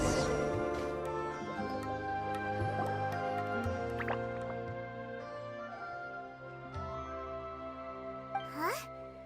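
Water droplets drip in Genshin Impact, close and clear plinks scattered irregularly over a bed of sustained musical tones, with a small splash-like gurgle near the end.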